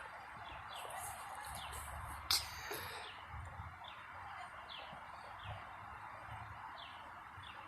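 A bird calls with faint, repeated short chirps at a distance over a steady background hiss, with one sharp click partway through.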